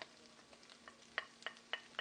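Onion and garlic frying in a pan, giving a faint, steady sizzle broken by several sharp crackles and pops of spatter toward the end.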